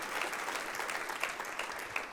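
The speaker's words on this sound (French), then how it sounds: "si vous applaudissez, applaudissez tous pour de vrai." Applause from a church congregation during a sermon, a steady even patter of many hands at moderate level with no voices over it.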